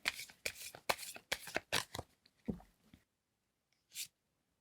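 Tarot cards are shuffled with a quick series of crisp riffling and slapping bursts, close and clear, then a short quiet gap before a single card is drawn and placed.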